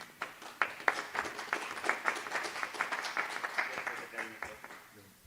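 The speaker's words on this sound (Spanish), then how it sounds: "Por favor, recibamos con un aplauso a Esteban." An audience applauds to welcome a speaker at a talk on artificial coral reef habitats, with clear individual claps in a moderately sized room that taper off near the end.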